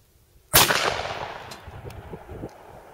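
A single blast from a Forehand Arms Company single-shot 12 gauge shotgun loaded with a low brass heavy 8 shell, one loud sharp report outdoors followed by a long rolling echo that fades over a few seconds.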